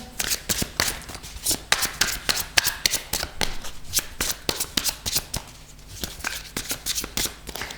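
Tarot cards shuffled by hand, a rapid, close, crisp run of riffling slaps and flutters repeating throughout with no talk.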